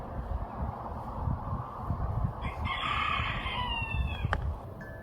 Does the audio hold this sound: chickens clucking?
yes